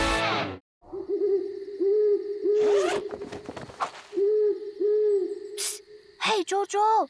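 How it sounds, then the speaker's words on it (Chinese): A cartoon owl hoots at night in a series of loud, clear, wavering hoots repeated about five times, with brief rustling and scraping noises between them and no talking. "只是猫头鹰在叫。"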